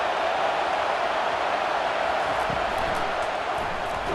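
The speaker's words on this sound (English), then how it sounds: "Listen to this crowd just shaking the girders of this place" A stadium crowd roars in the College Football 25 video game during a Utah at Wisconsin matchup, a steady, loud wash of cheering noise that holds constant throughout with no break.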